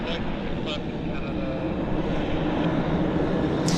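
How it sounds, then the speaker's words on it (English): An Air Canada Boeing 737 MAX jet departing Vancouver airport, a broad continuous engine roar heard at a distance, steady and rumbling throughout. "Air Canada's the MAX is cleared for departure"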